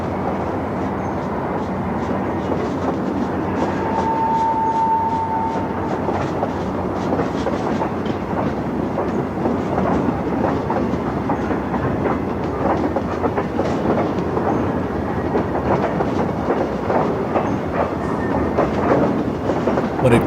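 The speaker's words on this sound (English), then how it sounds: "Here's a typical train backing out onto the main." An ALCo Century diesel locomotive backs a train out onto the main line, with a steady rumbling engine and rolling clickety-clack of wheels over rail joints continuing loud and close throughout.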